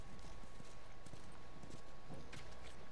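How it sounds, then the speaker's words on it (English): Horse hooves clip-clop at a steady walking rhythm in the video game The Last of Us Remastered, a quiet, continuous series of hoofbeats over faint ambient noise, with no talking. "You guys have horses."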